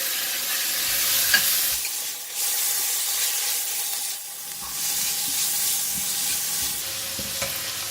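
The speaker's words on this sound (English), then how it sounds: "So I'm putting in the prawns. And the black fungus." Prawns and black fungus stir-frying in a hot wok, a loud continuous hiss and sizzle with bursts of tossing and scraping, close up and free of talk.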